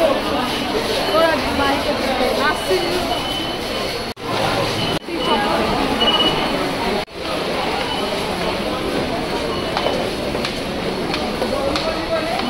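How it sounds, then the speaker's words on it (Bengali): A Kolkata metro train pulls into a station with a loud, steady rumble and rush that fills the whole stretch, broken by a few brief dropouts, while voices talk over it. "দেখো আসার সাথে সাথেই মেট্রো এসে গেছে"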